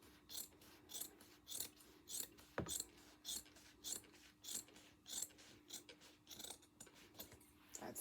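Scissors snip through smooth, shiny cushion fabric in a steady series of about a dozen short, crisp cuts, each a quick rasping slice, close and fairly quiet with no talking.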